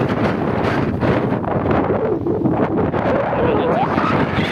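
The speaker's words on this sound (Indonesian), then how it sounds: "anginnya lumayan kencang" Strong wind buffets the microphone with a steady, loud roar throughout, low rumbling gusts dominating the scene.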